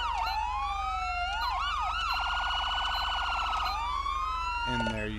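Carson SA 365 police siren from an LSPDFR police mod for a video game, cycling through wail, yelp and rapid phaser tones, loud and close, alone with no talk over it.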